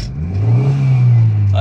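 A car engine revs up briefly, rising to a sustained mid-pitched drone close by, with a voice briefly over it.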